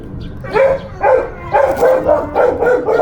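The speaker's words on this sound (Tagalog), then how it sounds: "Pasensya na at maingay yung mga aso" Dogs bark in a rapid series of loud, close yaps, several barks in quick succession with short gaps.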